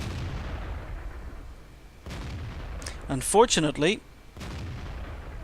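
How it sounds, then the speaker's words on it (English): Tank cannon shots boom in a tank video game, a couple of sharp blasts with a rapid clattering burst between them, while a voice speaks briefly over the game sound. "he bounces a shot, but still manages to kill the 110"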